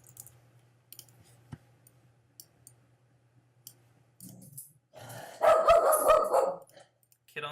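Dog barking in everyday vlog footage: sparse soft clicks and a low hum give way to a sudden loud burst of barks near the end, close and clear, with no talk over them.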